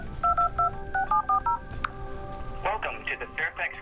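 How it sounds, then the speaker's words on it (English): Telephone keypad tones beep in quick pairs and runs as numbers are dialed, followed by a recorded voice speaking over the line. "Call your payments in with your phone."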